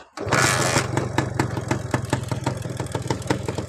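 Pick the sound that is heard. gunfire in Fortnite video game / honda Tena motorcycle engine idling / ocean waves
honda Tena motorcycle engine idling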